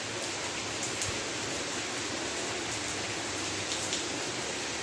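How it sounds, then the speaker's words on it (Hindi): Heavy rain falls steadily as a dense, even hiss, close and continuous throughout, with no voices. "बारिश तेज हो रही है, बारिश तेज हो रही है"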